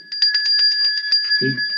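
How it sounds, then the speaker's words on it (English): A bell rung on a weather show to mark a correct temperature guess, a fast run of bright ringing strikes for over a second, loud and alone, ending with a short voice. "you got the bell."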